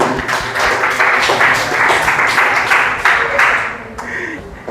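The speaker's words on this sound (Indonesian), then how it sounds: "Tepuk tangan untuk Azza" A classroom audience of business education students gives loud, close applause for a student presenter, with dense clapping that thins out toward the end.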